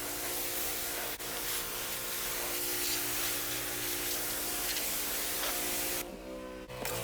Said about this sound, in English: So I switched to the regular spray nozzle just to do a cleanup